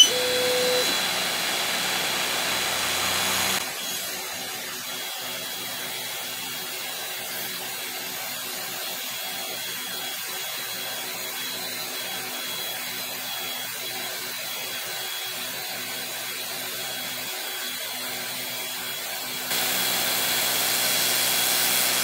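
A Creality Falcon 2 22W laser cutter cuts a strip, its fan and air-assist producing a steady hissing whir that drops to a lower, even drone in the middle section before rising again at the end.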